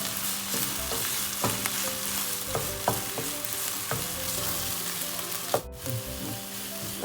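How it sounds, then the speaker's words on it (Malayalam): Tomatoes and onions sautéing in a pan for a chicken curry, a steady close sizzle broken by repeated sharp scrapes and taps of a spoon against the pan, one louder clank near the end, no voices. "ഇനി ഈ തക്കാളി നന്നായി വെന്തുടയുന്ന വരെ ഒന്ന് വഴറ്റി കൊടുക്കണം"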